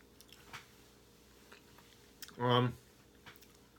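Raw moose bone marrow being chewed, one short, close, squishy bite and chew standing out against quiet background, with faint clicks before and after.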